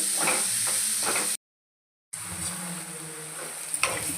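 Sliced onions frying in a pan for a brinjal curry give a continuous crackling sizzle, broken by a brief moment of silence. A few stirring scrapes and clicks are mixed into the frying.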